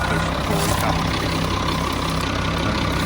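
A Schlüter E7800TV tractor engine idling steadily, a constant low, rough diesel rumble with a faint hiss on top, close and even throughout, with no voices.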